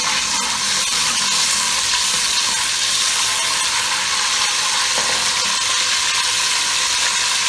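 Onions fry in hot oil for nalli pulao, a loud, dense, continuous crackling sizzle close by with light stirring scrapes.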